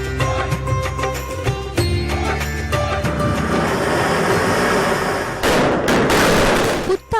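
Diwali firecrackers burst in rapid, dense crackling volleys with sharp pops layered over a continuous roar, loud and sustained throughout, and a few heavier bangs near the end.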